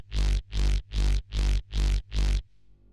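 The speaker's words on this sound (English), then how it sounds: "The next one is Bass Reverse." A reverse bass preset in Serum from the Doomsday pack, six evenly spaced swelling bass notes that fade in and cut off abruptly, deep and bright, played alone with a faint tail after the last.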